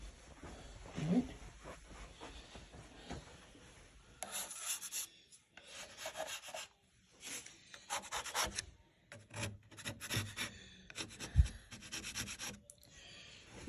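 Excess painter's putty is sanded off a repair in repeated close, rasping bursts of back-and-forth strokes with short pauses between them, following a few seconds of quieter sound and talk at the start.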